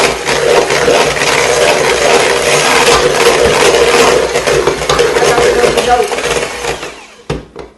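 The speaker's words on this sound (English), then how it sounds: "Go ahead and mix it on" Electric mixer whirring steadily as it beats milk and brown sugar together for a Thanksgiving recipe, a loud continuous buzzing drone that cuts off near the end, followed by a few clunks.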